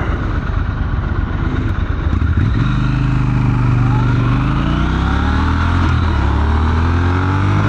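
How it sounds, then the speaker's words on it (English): A 2024 Triumph Scrambler 1200X motorcycle accelerates hard from the rider's position, its engine note climbing steadily through the gears, loud and continuous over rushing wind. "Wow, acceleration. The bike just wants to pull away from you."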